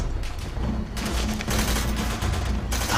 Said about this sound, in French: Je sens bien qu'on me tire dessus, mais je vois pas d'où ça vient.